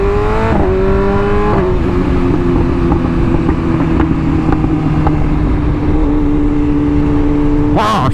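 BMW S1000RR motorcycle engine revving, a loud, close whine that climbs and shifts pitch in several steps, steady and dominant throughout.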